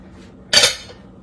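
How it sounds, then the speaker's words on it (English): A metal spoon scrapes and clatters once against a dish while scooping up cut-up food for a slow-cooker recipe, a single short, bright clink-and-scrape that trails off into quiet. "I'm just going to use the spoon so I don't have to get my fingers messed up"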